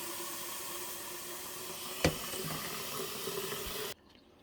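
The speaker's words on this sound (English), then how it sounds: "you're going to want to put water in the reservoir" Water pours steadily into the reservoir of a Keurig K-Supreme Plus coffee maker, a continuous close filling rush with one brief knock midway, stopping abruptly near the end.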